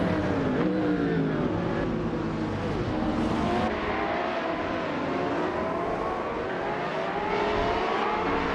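Hypercars roar off the line at the start of a video game race on the Alastaro GP track, several engines revving and whining together in a dense, continuous, loud pack with rising and falling pitch.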